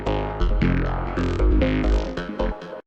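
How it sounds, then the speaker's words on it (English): A short synth line run through the phaser module of u-he UHBIK: sustained, chord-like synth notes with a swirling, shifting tone, steady and fairly loud, then cut off abruptly after about three seconds. "Next up, we have the phaser."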